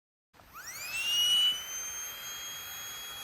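A small portable air pump inflating a bed at a wild camp starts with a rising whine that climbs in pitch, then settles into a steady, fairly loud electric hum, close and alone.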